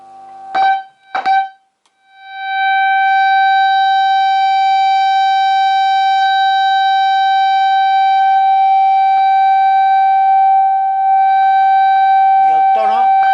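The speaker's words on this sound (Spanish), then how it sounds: "lo quito porque el pitido este es muy molesto" A steady, high-pitched electronic whistle from a radio receiver holds for about ten seconds as a pure tone with harmonics, loud and constant, preceded by a few brief handling knocks and ending in a short burst of noise.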